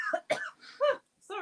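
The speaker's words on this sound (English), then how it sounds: "I've just got a cough" A person with a lingering cough after a recent bout of flu coughs several times in short bursts, close to the microphone, with brief pauses and a throat-clearing quality between.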